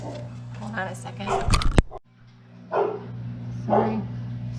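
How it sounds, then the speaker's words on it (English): Several dogs bark at someone in a backyard, a burst of sharp, close barks breaking out mid-stretch over and between a person talking. "Now my dogs are freaking out."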